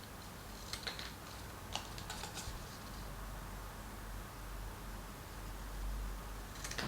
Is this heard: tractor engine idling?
no